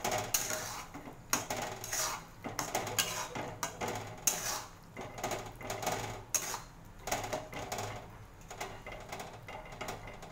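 A spoon clinks and scrapes against a pan while fried idli pieces are stirred into simmering gravy for idli manchurian, giving repeated irregular metallic taps and rattles at moderate volume with no talking.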